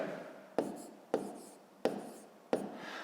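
A fifth-grade maths exercise is written out by hand, heard as four sharp, evenly spaced taps of the writing tool, each trailing off in a quiet, roomy space.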